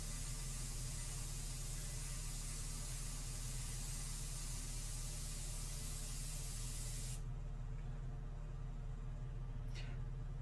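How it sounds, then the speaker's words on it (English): Airbrush spraying India ink, a steady close hiss of compressed air that holds for about seven seconds, then cuts off, leaving a quieter background hum. "Let the airbrush do the hard work."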